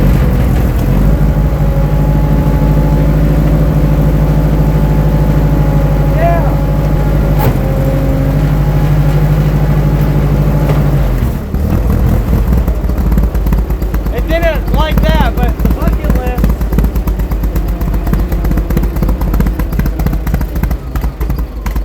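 A 1960s backhoe engine running again after more than 20 years idle, with a carburetor needing a rebuild: a loud, close, rough low engine rumble that shifts midway into uneven chugging and sputtering, with people talking over it.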